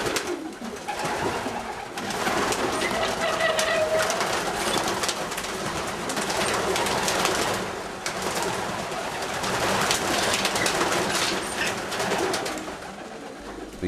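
Many racing pigeons cooing together in a loft's young bird section, a steady overlapping murmur of soft coos with no talking.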